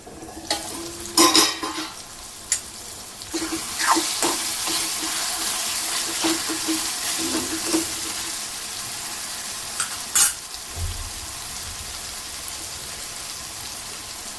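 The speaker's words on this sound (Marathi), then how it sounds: "टोमॅटोला झाकून 2 मिनिटं वाफवूया" Cluster beans and tomato cook covered in a pan, a steady soft sizzle running throughout with scattered clicks and knocks of lid or utensil, no voices.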